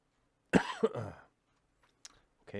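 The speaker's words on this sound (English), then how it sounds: "I just keep like coughing and coughing and coughing, like off and on." A person coughs a couple of times, harsh and close, then a brief quiet with a small throat sound before they start to speak.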